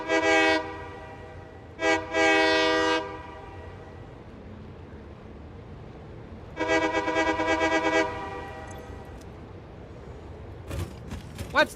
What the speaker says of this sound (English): I do have a ton of trains coming through here